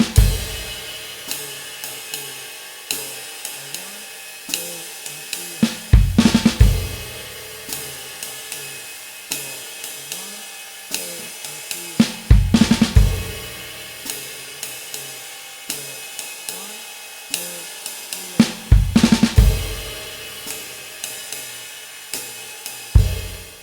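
A drum kit plays a five-stroke roll fill in a slow swing-feel two-bar phrase, with sharp snare and cymbal hits recurring every few seconds over a quiet background, no voices.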